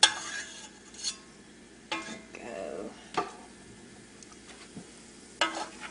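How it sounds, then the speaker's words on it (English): Quiet sizzle of garlic frying in sesame oil in a pan, with a few sharp stirring clatters and utensil scrapes; a brief word is spoken. "Just let that start frying up just for about 30 seconds."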